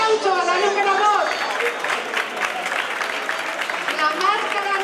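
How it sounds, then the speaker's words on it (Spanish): Applause and crowd noise at a traditional celebration in a senior centre in Valdepeñas, greeting contestant number two; steady, dense clapping from a sizeable audience, with voices mixed in throughout. "aplauso a la número 2"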